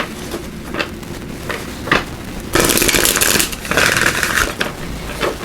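A deck of Divine Guidance oracle cards is shuffled by hand in a quiet room, with soft riffling bursts and two longer, louder shuffles near the middle, with no talk.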